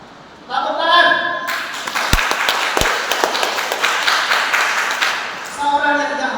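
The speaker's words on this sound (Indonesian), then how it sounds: "Tepuk tangan." A burst of applause from a church congregation, steady clapping lasting several seconds between stretches of speech at the start and end.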